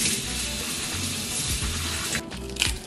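Steady rush of cold tap water rinsing spinach and greens in a kitchen sink, continuous and fairly close, with a few clatters near the end.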